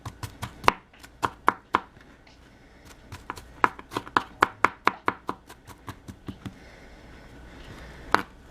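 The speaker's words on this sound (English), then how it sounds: "And then you're going to chop up your scallions." A knife chops scallions in quick, crisp, evenly spaced strokes, with short pauses between bursts. The chopping is close and clear, with nothing else over it.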